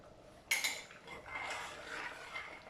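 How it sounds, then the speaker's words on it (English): A spoon clinks sharply against a cooking pot, then scrapes and swirls as liquid is mixed into spicy tomato soup; a short, close, fairly quiet burst of kitchen sounds. "I'm just going to take a little bit of the liquid from there and mix that in"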